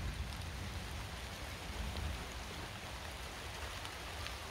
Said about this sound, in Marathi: कोकणात येऊन आज पहिल्यांदा मला हा मी पावसाचा अनुभव येतो आहे